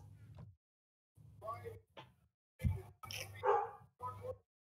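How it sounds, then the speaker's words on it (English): In an RPG video game, a dog barks in several short bursts spread across a few seconds, fairly faint, with silent gaps between the barks. "I hear a doggy."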